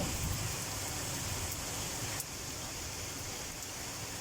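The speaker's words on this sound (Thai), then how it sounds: "เม็ดฝนพี่น้อง" Heavy rain pours steadily during a storm in Denmark, a dense, even hiss of falling drops with no voices, holding at a constant moderate level throughout.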